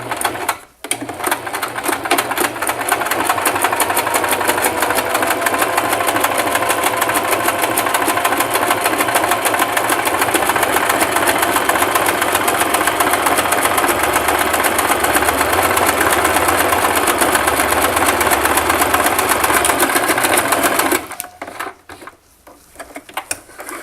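A Singer 3232 sewing machine running a zigzag stitch, a loud, close, continuous rapid mechanical chatter for about twenty seconds before stopping, then a few faint clicks.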